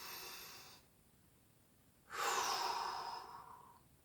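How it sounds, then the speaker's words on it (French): A slow, deep inhalation during a relaxation breathing exercise, a close, airy breath of about two seconds that starts abruptly and fades gradually, preceded by a fainter exhale and a brief quiet pause. "On inspire."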